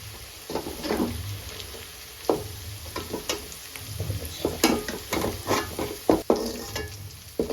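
Potatoes fry in hot oil in a pan for a chicken liver and gizzard curry, a steady close sizzle broken by repeated scraping, clattering stirs of a spatula, with no voices.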